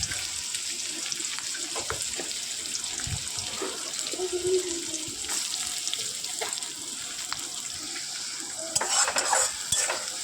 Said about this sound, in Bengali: তো পেঁয়াজ কুচিগুলোকে ততক্ষণ ভাজা হতে থাক